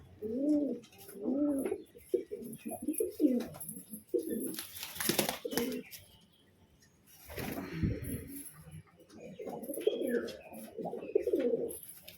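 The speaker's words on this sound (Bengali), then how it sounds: "বালি নর পায়রা" Pigeons in a home loft, including a male Bali pigeon, give repeated soft throaty coos in rhythmic bursts with short pauses and a brief rustle partway through.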